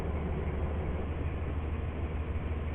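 Steady low rumble of a passenger train running on the line in the Roblox game Stepford County Railway, continuous and close, with no voices over it.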